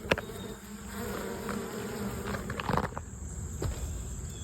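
Honeybees buzzing around a hive, with a robbing bee searching for a way inside; a close, continuous droning hum with individual bees swelling louder as they pass near, plus faint tapping and handling noises, no talk.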